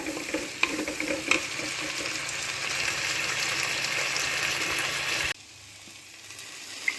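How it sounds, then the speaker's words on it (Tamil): Onions sizzling steadily in a hot pan for spicy chicken gravy, with a spatula scraping and stirring throughout. The loud frying drops abruptly to a quieter simmer near the end. "அந்த வெங்காயம் நல்லா வதங்கணும் பொன்னிறமாக அது வரைக்கும் நல்லா இதை வதக்கிக்கிங்க"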